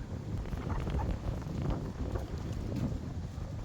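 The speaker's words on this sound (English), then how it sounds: "I apologize, it is very windy." Constant low wind rumble batters the microphone, a thick, muffled roar with uneven gusts throughout.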